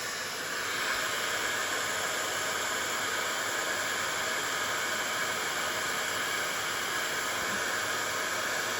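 A handheld embossing heat tool blows hot air in a steady, loud, continuous whoosh while heat-setting embossing powder on a card, with no talk over it.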